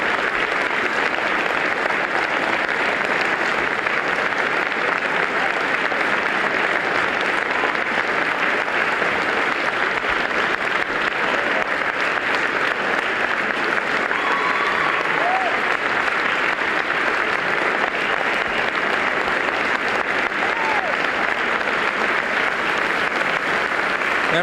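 Prolonged, steady applause fills a legislative chamber for Governor Jim Florio at his 1994 State of the State address. The clapping is dense and loud and runs unbroken throughout, with a faint murmur of voices beneath it.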